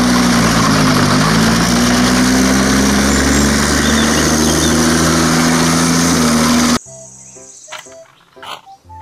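A toy armored tank's engine effect drones loudly in a steady, buzzing rumble for several seconds, then stops abruptly and gives way to a few brief electronic beeps.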